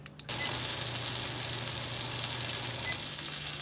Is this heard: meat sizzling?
yes